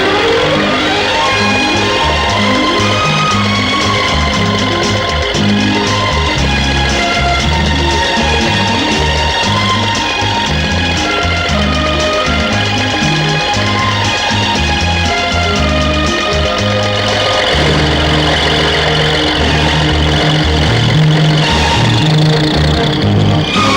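A tractor engine works a field while a plough digs in, a loud continuous low mechanical drone with steady throbbing that stays close and unbroken for the whole stretch, layered with busy higher-pitched noise.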